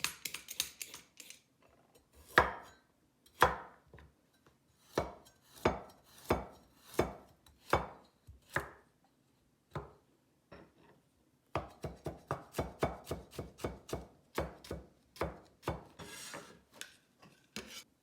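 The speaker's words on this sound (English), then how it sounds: "Next, we need a medium carrot cut into strips." A medium carrot is cut into strips, with crisp knife strikes on a cutting board coming in irregular bursts, then a fast, even run of chops near the end.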